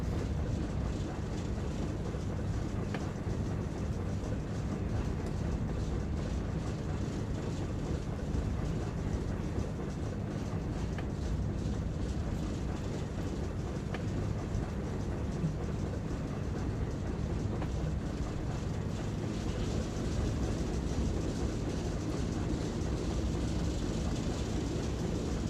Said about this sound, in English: And we're being shunted into the sidings by a yard shunter now.